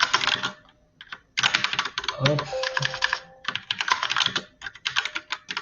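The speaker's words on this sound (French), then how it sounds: "Pardon pour le bruit de clavier, hein, mais j'ai un clavier un peu bruyant." Loud clatter of a noisy computer keyboard being typed on in bursts, near and close, with a short spoken word in the middle.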